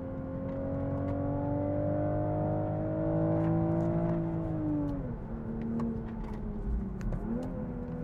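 A 2023 Toyota Supra with a manual gearbox drops a gear, its loud steady engine drone falling in pitch partway through, then holding at lower revs, heard close with no talking.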